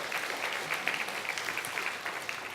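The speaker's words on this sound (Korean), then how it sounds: "박수 한번 부탁합니다" A church congregation applauds steadily in a hall, a dense even patter of many hands that neither rises nor fades across the brief moment.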